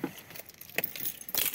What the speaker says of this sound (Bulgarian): Само ключовете да взема.